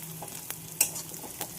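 Yardlong beans, pumpkin and radish fry in a pan, giving a faint, low sizzle broken by a few sharp scraping stirs, with no one talking.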